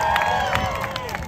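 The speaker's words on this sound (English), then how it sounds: "round of applause for Rabbi Shmuley" Crowd at a Times Square October 7 memorial in New York applauds and cheers, a dense outdoor wash of clapping and voices with a whistle-like tone drifting through it.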